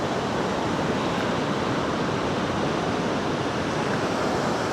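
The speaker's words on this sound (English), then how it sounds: "Have some waves creep up." Ocean waves wash up on a flat beach at low tide, giving a loud, continuous broadband roar of surf with no distinct breaks, heard close by and alone.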